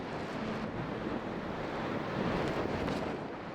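Gusts of wind buffeting across a volcano crater lake on Nyiragongo, a steady loud roar of broadband rushing air with slight swells in strength and no voices.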